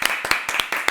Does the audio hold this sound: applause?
yes